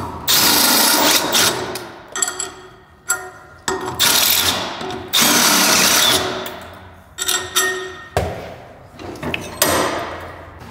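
A power drill repeatedly bores out a hole to take a 12 mm bolt during an AWD Honda viscous coupler install, with loud whirring bursts of about a second each, separated by short pauses.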